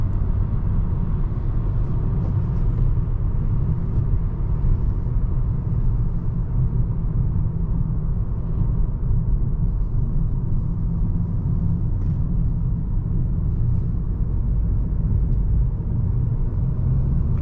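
Steady low engine and road rumble from inside a 2023 Nissan Sentra SR Midnight Edition while driving, a continuous even drone lasting throughout with no voices.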